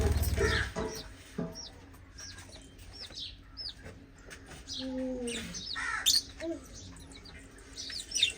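Caged pigeons at a village house give scattered soft coos and chirps, fairly close and intermittent, mixed with clucking birds and light background noise.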